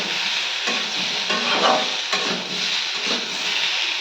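Jackfruit and potato curry fries in oil in a pan and is stirred repeatedly, giving a loud close sizzle punctuated by rhythmic scraping strokes.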